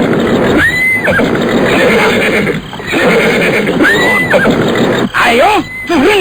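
A horse neighs repeatedly in a radio drama, loud whinnies with rising and falling squeals over a busy background of talk and hoof sounds, several calls spread across the scene.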